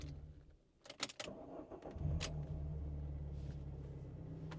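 Clicks and a brief mechanical whir, then an Alfa Romeo GTV engine cranks and settles into a steady, close idle hum.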